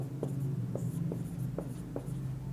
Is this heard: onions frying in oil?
no